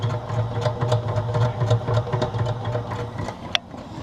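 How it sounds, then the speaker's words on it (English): A honey extractor spins honey out of uncapped frames with a steady low motorised hum and rattling whir, continuous and fairly close, with a brief clunk near the end. "Then it goes into the extractor where it spins the honey out."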